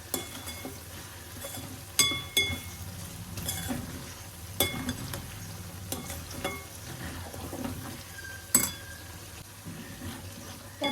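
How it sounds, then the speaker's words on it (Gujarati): Chopped onion with a little salt sautés in a pan for a dum aloo, a steady soft sizzle under repeated stirring scrapes and occasional sharp clinks of the spoon against the pan, close by with no talking. "ડુંગળી સંતળાઈ ગઈ છે"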